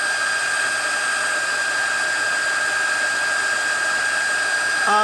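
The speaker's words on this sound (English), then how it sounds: "I'm going to go ahead and heat set my embossing powder" A heat tool blasts steady hot air to melt and set embossing powder on a stamped card, a continuous loud whirring hiss with a high whine that holds evenly throughout, with no talking.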